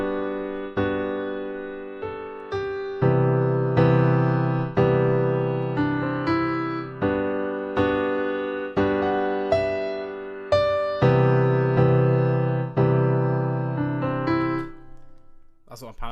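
Plain piano with light EQ and little else on it, playing a steady chord progression of repeated struck chords in an even rhythm, close and full, ringing alone for about sixteen seconds before trailing off.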